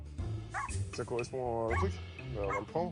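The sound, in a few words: small bulldog barking and whimpering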